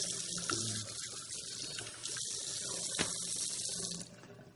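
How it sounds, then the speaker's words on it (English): Tap water runs steadily into a sink as juicer containers are rinsed beneath it, a close hissing splash that shifts as items move through the stream, then cuts off near the end. "Rinse everything off."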